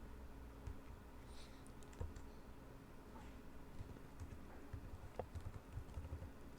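Keys clatter on a computer keyboard as a file name is typed, a faint, steady run of soft irregular taps over low room hum.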